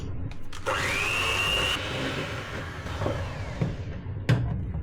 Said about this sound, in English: I will just give this another whisk.